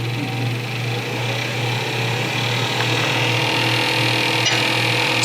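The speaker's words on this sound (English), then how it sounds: "this lathe sounds different from mine. It's quieter" Wood lathe spinning a centered blank, a steady, fairly quiet motor hum with a constant low tone and even whir throughout, no voices.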